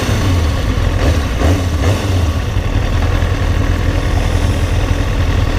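Kawasaki 636 motorcycle engine idling steadily with a low rumble, loud and close throughout, no talk.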